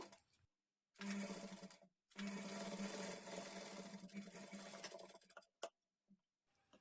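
Sewing machine stitching thread piping onto a square-neck blouse, two runs of steady motor whir broken by short pauses, close and clear, then a brief knock before quiet.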